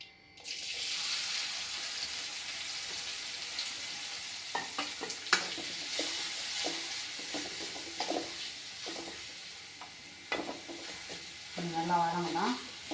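Onion and tomato sautéing in hot oil in a pan, a soft steady sizzle with intermittent spatula clinks and scrapes and a short faint tonal sound near the end.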